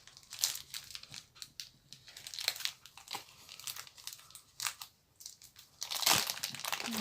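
Wepam modelling paste being cut into a slice from its plastic wrapping, giving close, loud crinkling and crumpling of packaging in irregular bursts with a heavier rustle near the end, and no voices.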